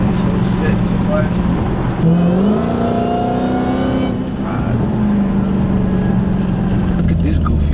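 A Dodge Hellcat's engine rumbling nearby at a gas station, a loud steady drone with a brief rise in revs, while people talk and exclaim over it.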